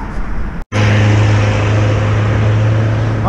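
A loud truck on a street near the fortress in Skopje, Macedonia, rumbles close by with a steady heavy engine drone after a brief cut, no talk.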